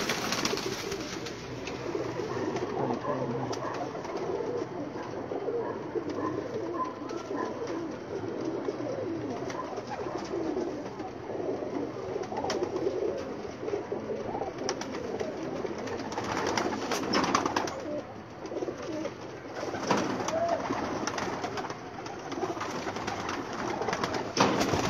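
Pigeons on a rooftop, several birds cooing repeatedly in soft, low calls at close to middle distance over a constant background hum, with occasional flutter and rustle.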